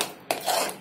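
Sorrel and red gram dal curry stirred in a metal pot: a ladle scrapes and clinks against the pot in a brief close burst after a moment of quiet, with no talk.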